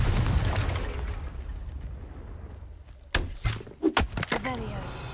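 A Confringo fire spell explodes in Hogwarts Legacy, with a burst of loud cracking blasts and rumbling impacts following a fading roar, set against game ambience and talk.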